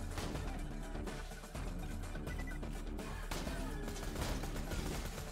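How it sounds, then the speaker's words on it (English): Dense, muffled explosions and rapid gunfire from a Borderlands 2 battle pile up continuously in a busy wash of blasts and crackling shots at moderate volume. "there is lots of explosions happening around me"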